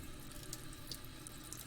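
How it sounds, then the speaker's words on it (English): A hot water tap runs into a sink after an electric hot water tank is refilled, a faint, steady hiss and splash of flowing water with no voices. "Run that hot water tap just then to get the air out."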